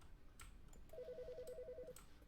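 An electronic telephone ring in The Stanley Parable: a rapid warbling trill repeating for about a second, moderately loud over a low ambient hum, with no one talking.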